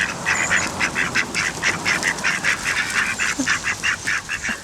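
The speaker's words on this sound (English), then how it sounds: "look, there's loads of ducks" A flock of ducks quacks continuously in rapid, overlapping calls, fairly close and loud.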